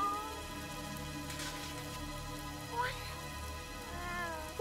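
A small cat meows in a Super Mario video game, with a few short mews heard over a steady, layered game soundtrack.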